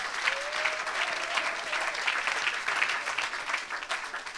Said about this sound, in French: Est-ce qu'on peut acclamer pour les femmes?